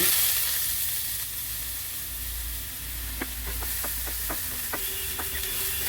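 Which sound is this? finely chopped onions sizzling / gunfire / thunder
finely chopped onions sizzling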